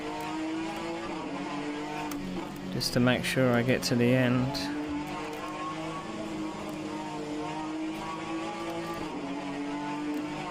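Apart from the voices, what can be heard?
Alfa Romeo race car engine at max power in a racing video game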